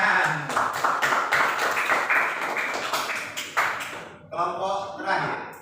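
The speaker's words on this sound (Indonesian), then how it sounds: "Tepuk tangan." Students in a classroom clap together in a quick, rhythmic pattern of sharp, separate claps that tails off, mixed with children's voices calling out at the same time.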